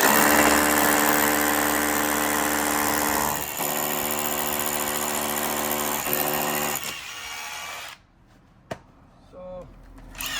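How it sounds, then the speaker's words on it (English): Corded SDS hammer drill in hammer-drill mode boring a vent hole through brick: a loud, steady hammering drone that runs about seven seconds, then cuts off, leaving quieter handling noise and a sharp knock. "Let's put it in hammer and drill mode."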